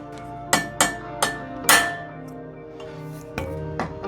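Several sharp metallic hammer blows on a part from a battered 1990s steel road racing bike ring out close by in an uneven rhythm, each one leaving a bright, lingering ring, with no talking.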